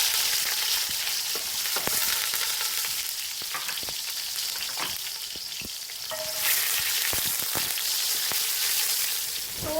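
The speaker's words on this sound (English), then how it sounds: "once the oil is hot, I'm just going to add in the onion" Chopped onion frying in hot oil for a chicken dish, a steady bright sizzle and crackle with occasional stirring clicks, close and continuous with no talk.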